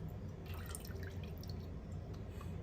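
Fragrance oil drips from a spoon into a can of melted candle wax in a home kitchen, producing faint, close, scattered drip sounds over a soft background hiss.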